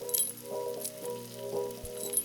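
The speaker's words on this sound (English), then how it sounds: "I could record the sound of the sizzling spices" Spices sizzle and crackle steadily in a hot pan in a home kitchen, with a few light metallic clinks of utensils over the frying hiss.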